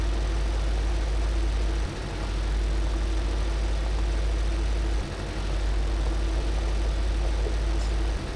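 A tractor engine pulling a plough in the video game Farming Simulator 15, a loud, steady low droning rumble running continuously with slight dips in level, heard alone without talk.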